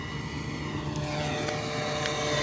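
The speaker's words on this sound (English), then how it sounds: "So let's do a full pass. You guys can see what kind of speed this Pitts has" A small FMS Pitts 1400mm radio-controlled airplane buzzes past on a windy day with a high, whining engine tone that swells steadily louder over a few seconds.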